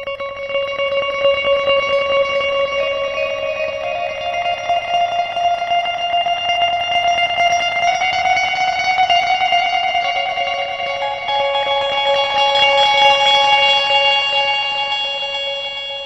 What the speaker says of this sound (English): This next patch is called Space Trim.